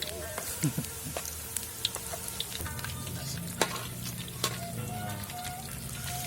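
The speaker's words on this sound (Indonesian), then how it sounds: "Sekarang pisang goreng, nanti kalau sudah diangkat jadi goreng pisang gitu." Banana fritters frying in hot oil, a steady close sizzle with scattered pops and crackles throughout, and no one talking.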